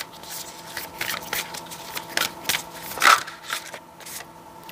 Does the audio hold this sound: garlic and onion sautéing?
no